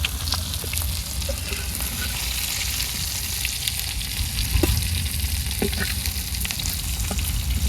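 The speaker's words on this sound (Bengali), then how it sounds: "এগুলো উদাইয়ে আলু ভাজতে নিমু" Potatoes fry in a pan in a village kitchen, a steady close crackling sizzle with faint clinks of stirring running throughout, no voices.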